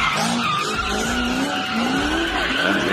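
A car in street racing skids with loud continuous tire squeal, rising and falling screeches over engine roar, close and sustained throughout.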